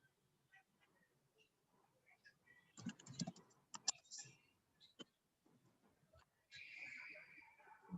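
Scattered clicks from a computer keyboard tap out in short irregular bursts, fairly faint and close, with quiet pauses between keystrokes.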